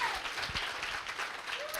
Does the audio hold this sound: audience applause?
yes